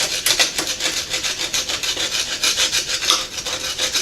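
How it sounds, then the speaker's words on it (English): Sandpaper scrubs the top of a piston from a Ford AA engine in quick, rough back-and-forth strokes, loud and close, with a steady rasping rhythm and no talking. "So let me scrape this down. I'm going to hit it with some sandpaper."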